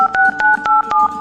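Telephone keypad dialing tones sound as about five loud, clear beeps in quick succession, each starting with a small click, close and alone.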